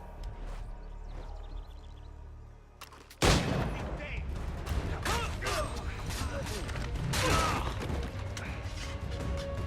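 Gunfire in Assassin's Creed III: a sudden loud blast erupts after a quieter stretch, then a dense, continuous clatter of shots and crashing mechanical noise, with game voices underneath.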